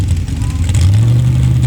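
A Ford-powered drag race car engine at a high-power stock class drag strip runs loud and rough close by, a steady heavy rumble that surges slightly as it revs.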